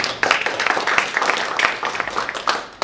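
Steady applause from a seminar audience on aerial firefighting for large wildfires, a dense wash of clapping hands that holds at a fairly even level for a few seconds.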